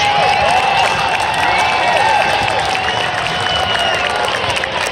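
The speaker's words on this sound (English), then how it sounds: "Ladies and gentlemen, let's give a big round of applause to number 26, Robert Smith." A stadium crowd at a high school football Ring of Honor induction applauds and cheers for number 26, a loud steady wash of clapping with shouts and whistles rising over it.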